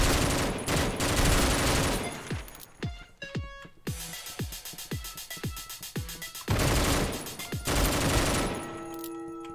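Loud shotgun blasts and gunfire in the top-down shooter OTXO, with dense bursts of shots at the start and end and a run of sharp single blasts mixed with metallic clicks and game sounds in the middle.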